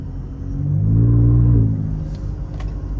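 A boosted Chrysler 300's engine rumbles near at hand, swelling to a deep, loud revving peak before settling back to a lower idle-like drone.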